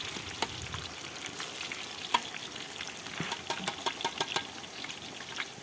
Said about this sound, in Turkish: Şöyle arada karıştıralım.